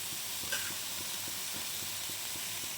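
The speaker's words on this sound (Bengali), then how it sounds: "এইবার এর মধ্যে আমি দিয়ে দেবো আদা বাটা" Ginger paste sizzling in a hot pan, a steady, even hiss with faint rhythmic tapping underneath and no talking.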